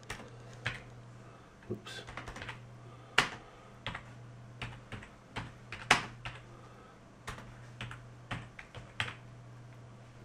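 Fingers typing on a computer keyboard, irregular bursts of sharp, close key clicks spread across several seconds over a low steady hum, with one brief spoken word.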